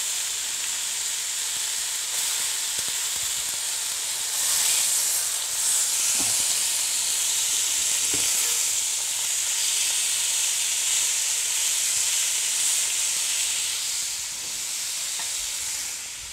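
Pieces of lamb leg roast sear in a hot pan with a steady, loud sizzle and hiss that runs throughout, broken by a few faint utensil taps as the meat is turned, with no talking.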